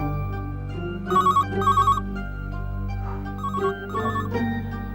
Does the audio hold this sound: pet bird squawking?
no